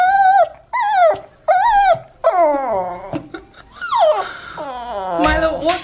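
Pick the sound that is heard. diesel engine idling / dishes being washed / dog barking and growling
dog barking and growling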